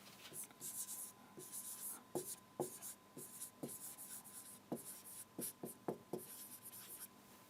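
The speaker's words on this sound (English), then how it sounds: "I would like to write it again." Handwriting on a surface at close range, faint scratchy pen or marker strokes coming in short bursts with small taps between them, and a steady faint hum underneath.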